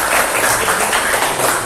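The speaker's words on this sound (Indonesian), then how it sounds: "Tepuk tangan untuk kita semua ya." Students in a classroom applauding together, a short burst of dense, continuous clapping, loud and close.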